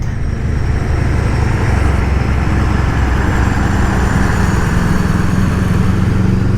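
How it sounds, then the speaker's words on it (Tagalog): An FKM Expres 500 Racer motorcycle with a 500cc twin-cam engine accelerates on a wet road, a loud steady engine roar with rising pitch and heavy wind rumble throughout, no talking. "ang lakas ng arangkada ng motorsiklo. Ramdam mo talaga na 500cc siya na twin cam"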